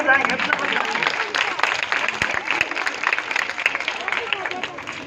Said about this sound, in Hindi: जरा इनके नाम जोरदार ताली बजाएंगे